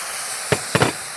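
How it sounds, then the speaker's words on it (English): Picota cherries sizzle in sugar and juice in a hot pan, giving a steady close hiss broken by a couple of brief knocking bursts. "Place the picotta cherries, pour them into that juice. Listen to the sizzle."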